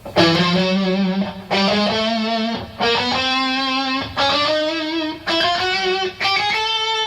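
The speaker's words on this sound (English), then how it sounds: "The scale would be like this, starting on E." Overdriven electric guitar plays a rock scale three notes per string starting on E, in quick picked groups split by short breaks, loud and up close, with no voices.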